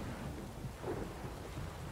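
Steady rain hisses throughout with a low, rumbling roll of thunder underneath in the video game The Witcher 3, dense and continuous, with no voices.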